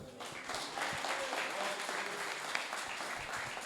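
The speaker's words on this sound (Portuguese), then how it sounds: "as palmas louvam o Senhor" A church congregation claps in praise during a family worship service, a steady, dense wash of hands filling the room at a moderate distance.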